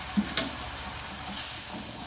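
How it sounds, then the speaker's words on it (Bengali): Spiced oil sizzles in a steady, close hiss after a couple of soft thuds as a paste of cumin powder soaked in hot water drops into the pan of frying spices. "মশলা ফ্রাই হয়ে গেছে, তেল ভেসে উঠেছে"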